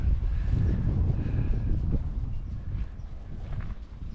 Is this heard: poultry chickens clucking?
no